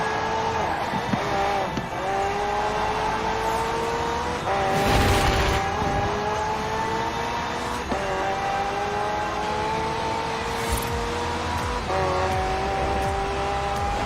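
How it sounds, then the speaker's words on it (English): McLaren hybrid twin-turbo V8 in Forza Horizon 4, roaring steadily through repeated rising gear pulls with brief shift breaks, loud and close, with a burst of tyre noise midway and no talk. "The car's blistering performance is delivered by a twin-turbo V8, supplemented by a McLaren ECU electric motor and instant power assist system."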